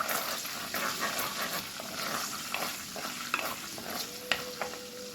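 Chopped garlic and green chili sauté in hot oil for a Tamil eggplant curry, giving a steady crackling sizzle with a spoon scraping and stirring through it. No one speaks.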